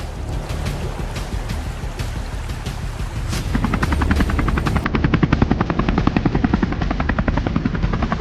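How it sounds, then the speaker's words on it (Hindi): A helicopter passes over floodwaters. A steady rumble builds into a loud, rapid rotor chop in the second half, close and continuous. "अरे भैया, वो देखो, हेलीकॉप्टर।"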